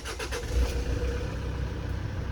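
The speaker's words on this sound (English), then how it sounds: "Car is turning on." A Kia Sorento engine cranks and starts up close, with a few quick starter pulses followed by a steady idle rumble.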